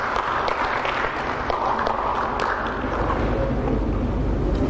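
Audience applause at a fundraising dinner for a welfare foundation, a steady wash of clapping from a large room sustained throughout.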